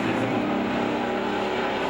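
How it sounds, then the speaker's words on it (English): Several race cars roar steadily around the 3-4 corner of Veterans Raceway Park, a dense continuous engine drone with faint crowd and announcer-like voices mixed beneath. "4 quick cars working through the 3-4 corner"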